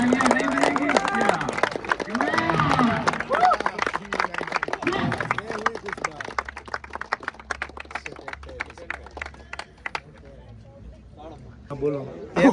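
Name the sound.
applause, people clapping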